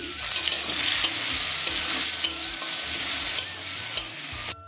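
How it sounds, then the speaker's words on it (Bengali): Chopped onions sizzle steadily in hot oil in a wok (kadai), seasoned with bay leaf and whole dried red chillies, with stirring scrapes throughout; the sound cuts off abruptly near the end. "এবারে একে একে দিয়ে দিচ্ছি পেঁয়াজ কুচি।"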